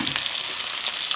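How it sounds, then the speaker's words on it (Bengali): Pointed gourd and potato pieces sautéed in a spice paste sizzle with a close, steady hiss and faint crackle, with no voices. "আলু দিয়ে ভালো করে কষিয়ে নিয়ে এবারে পটল দিয়ে"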